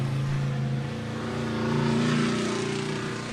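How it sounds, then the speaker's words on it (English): Drift car going by at a pro-am drift series round, a loud continuous engine roar with a revving swell in the middle, with no talk. "Well, there's a car going by,"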